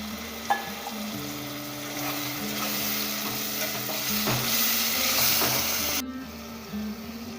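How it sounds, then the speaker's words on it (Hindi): Onion, tomato and garlic masala frying in a pan as water is poured in, giving a steady close sizzle with scraping stirs throughout and a sharp hiss near the end. "अब हम थोड़ा पानी ऐड कर देते हैं इसमें।"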